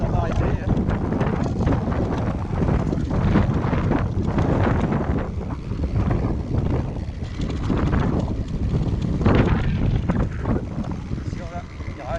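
Heavy wind buffets the microphone throughout while riding an electric fat bike down a descent, a steady loud rushing roar with gusty surges and no pauses.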